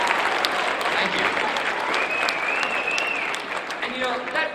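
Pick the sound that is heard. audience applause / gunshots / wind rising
audience applause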